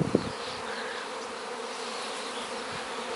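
Honey bee swarm buzzing steadily throughout, a dense continuous hum of many insects close by, with a brief knock near the start and no speech.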